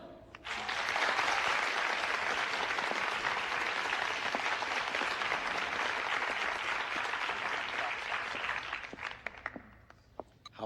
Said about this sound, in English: won't you please give a warm round of applause for Helen